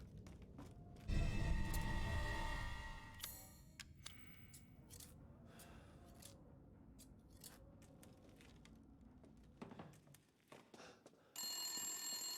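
A telephone rings in the horror game Resident Evil Village, with bright, repeating electronic ring bursts standing out at moderate loudness amid game ambience and scattered clicks.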